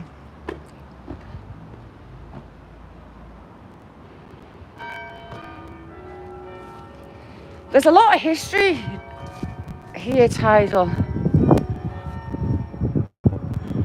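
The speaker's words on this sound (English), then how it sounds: "And there's its bells ringing." Bells ring out in a cluster of bright, resonant strikes midway through, overlapping with nearby speech and background room noise.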